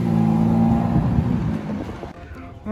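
A powerful supercar engine roars and revs nearby on a street in Knokke, Belgium, the rumble easing off toward the end as the sound fades.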